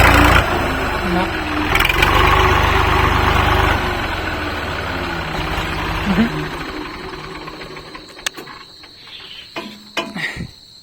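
Engine of a tractor stuck in the ground, a loud steady mechanical drone that builds and then fades toward the end, with a few clunks and a voice talking over it.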